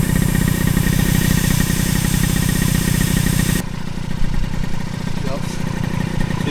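A Honda Elite AF16 scooter with a water-cooled 120cc stroker Dio engine runs loud and close, a steady buzzing drone that eases slightly partway through, with voices talking over it.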